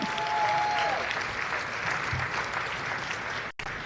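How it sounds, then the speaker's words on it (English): Sustained audience applause fills an awards ceremony hall, dense and steady for several seconds with a brief thin tone near the start, then cutting off abruptly near the end. "Now you can give us a round of applause"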